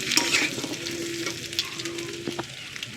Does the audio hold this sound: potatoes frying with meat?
yes